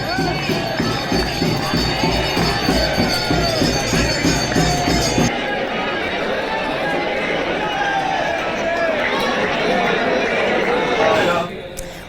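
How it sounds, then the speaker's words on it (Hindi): Crowd of devotees gathered at large Hindu temples on New Year morning, a busy wash of chatter, footsteps and movement throughout, with a rhythmic shuffling pulse early on and a voice speaking over the noise. "देश के अलग अलग बड़े मंदिरों में श्रद्धालुओं की भीड़ है"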